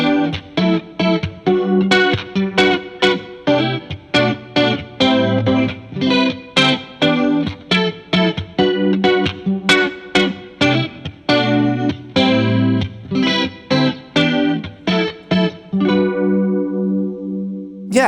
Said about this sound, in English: I personally really like using the detune setting on a clean sound